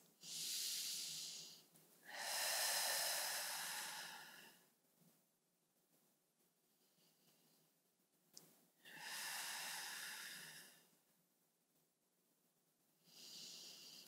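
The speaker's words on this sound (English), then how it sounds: "We're gonna hold this hinge open and take three big deep breaths." Deep, slow breaths during a stretching exercise, with three long airy exhalations and inhalations separated by quiet pauses, close and breathy in an otherwise silent room.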